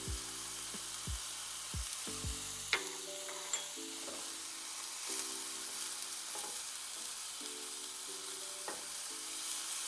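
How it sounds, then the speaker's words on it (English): Mushrooms sizzle steadily in a pan while being cooked for an egg white omelette, a constant frying hiss broken by a few short scraping stirs and light utensil knocks, close and moderately loud, with no talk. "Mushrooms, when they're cooking,"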